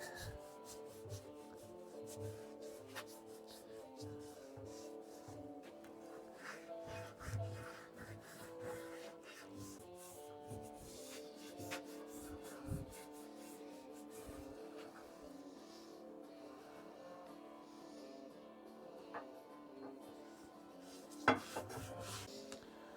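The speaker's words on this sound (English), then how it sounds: "I have sanded and brushed off the rust off of this top" Rust is sanded and brushed off the cast iron top of an old potbelly stove, giving a long stretch of close, repetitive rubbing and scraping strokes with an uneven rhythm and a sharper scrape near the end.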